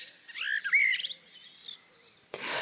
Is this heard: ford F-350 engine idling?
no